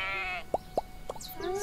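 Sheep in the farming game Everdream Valley give two or three short, close bleats in quick succession. A wavering tonal background sound runs around them.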